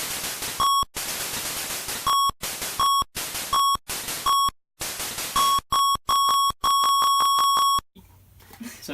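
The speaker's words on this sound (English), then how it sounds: "the first level music is bizarre. It says beep, beep, beep," Beeping first-level music from an arcade shooter video game, with harsh electronic tones over noisy bursts that pulse in an irregular rhythm, then speed into a rapid run of beeps before cutting off.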